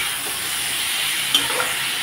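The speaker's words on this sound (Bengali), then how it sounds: "এখন ভালোভাবে কষিয়ে নেব মশলার সাথে সবজি।" Vegetables frying with spices in a pan, a steady close sizzle with a faint stir or two, no voices.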